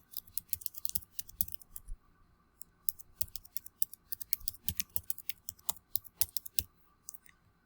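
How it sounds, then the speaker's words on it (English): Typing an email address on a computer keyboard, a steady run of light, quick key clicks with irregular rhythm and short pauses, close and fairly quiet with no talking. "So I will type my email."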